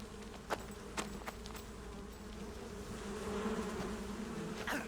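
A swarm of bees in the Metal Gear Solid 3 video game: a steady, dense insect buzz and drone throughout, with a few faint clicks and no talking.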